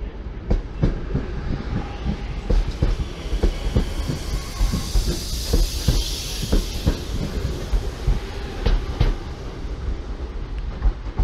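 A British Rail Class 323 electric multiple unit, 323228, moving through Manchester Piccadilly station, with loud rhythmic clickety-clack of wheels over rail joints, a steady rumble and a hissing wash as it passes close by.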